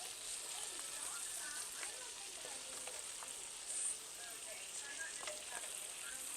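Mushrooms frying in butter for beef stroganoff sizzle faintly with soft crackles and light stirring scrapes, steady and quiet throughout.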